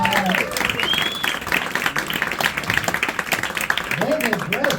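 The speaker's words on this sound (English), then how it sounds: "How about a big round of applause for this one?" An audience at a magic show in an intimate parlour applauds with sustained, even clapping and a few scattered cheers, while voices are heard briefly at the start and end.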